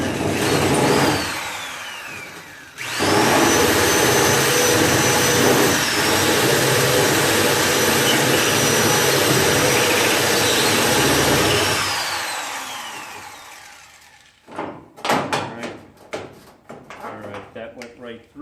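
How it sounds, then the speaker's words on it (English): A drill turns a counter cutter bit through a trunk lid panel on a 1968–72 GTO-type car, a loud sustained whirring grind lasting about nine seconds, with a short burst before it and clicks and handling noise afterward. "I have my counter cutter here."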